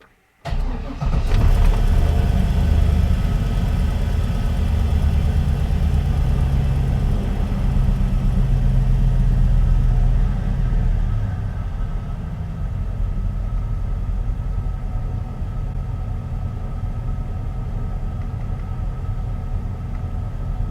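An LS V8 swapped into a 1952 Chevrolet with a custom stainless steel exhaust cranks and fires, then holds a loud, deep, steady idle with a brief higher-revving stretch before settling to a lower rumble.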